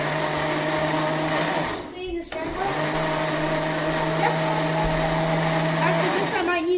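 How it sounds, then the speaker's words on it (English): A blender whirs loudly while pulsing tomatillo salsa in a home kitchen, the motor cutting out briefly in the middle before spinning up again and stopping near the end, with no speech. "Now everything's in the blender and it's ready to go, and I'm just gonna pulse it."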